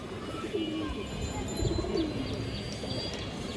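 Pigeons cooing softly in a loft among black-necked breeding birds, low repeated coos and faint chirps under a steady background hum, with a voice talking nearby.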